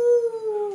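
A toy wolf gives a single short electronic howl indoors, a clear tone that starts bright and slides gently downward, loud and close, heard alone.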